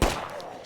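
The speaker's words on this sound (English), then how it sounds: "Stop shooting!" Brief burst of gunfire in State of Decay 2, a sharp crack at the start and another at the end, close and loud around a quieter gap.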